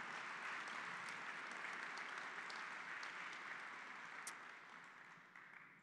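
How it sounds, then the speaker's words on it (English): Sustained audience applause fills a museum gallery opening reception, a dense steady clatter of many hands that holds strong throughout and slowly tapers toward the end. "let's give them our first round of applause tonight"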